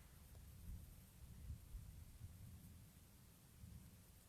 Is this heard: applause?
no